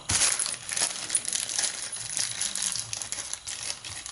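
Small bits of styrofoam and loose parts tumbling out of a rifle stock during replacement, a close scattered run of light rattles, clicks and crinkles with a sharper knock at the start.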